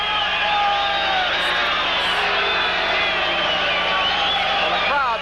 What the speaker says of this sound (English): the crowd booing here